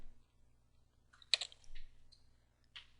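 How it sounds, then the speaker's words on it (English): Several sharp key clicks sound on a computer keyboard as a short command is typed, ending in a firmer keypress for enter; the clicks are close and crisp over a faint electrical hum. "Let's type in mail here and hit enter."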